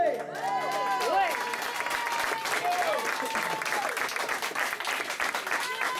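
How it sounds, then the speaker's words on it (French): A concert audience at a tribute show claps steadily throughout, a dense close wash of applause with a voice ringing out over it near the start. "C'est moi qui vous applaudis ce soir."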